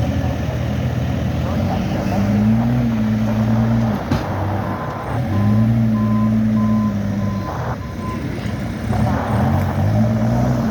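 A snow removal truck sounds steady, repeating backup beeps while reversing during snow clearing in a square, with a loud engine rumbling underneath throughout.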